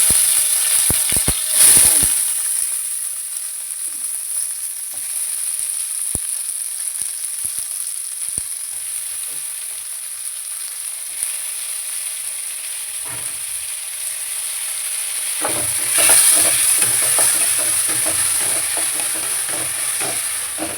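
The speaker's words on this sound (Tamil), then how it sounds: "நல்லா வதக்கணும்" Oil sizzles and crackles steadily as mustard seeds, curry leaves and kohlrabi sauté for sambar, with louder bursts of frying and stirring near the start and again toward the end.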